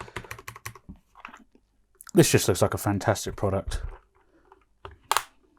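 Fingers type quickly on a Durgod Taurus K310 mechanical keyboard with Cherry MX Brown switches, giving close, crisp, moderately quiet clacks in short bursts before and after someone speaks.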